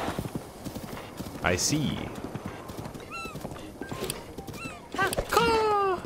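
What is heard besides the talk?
horse galloping and neighing in video game Zelda: Breath of the Wild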